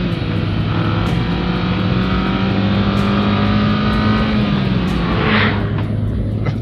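A 2024 Mazda MX-5 rear-wheel drive roadster engine drones steadily and loud throughout, a constant low hum with a faint rising whoosh near the end and no talking.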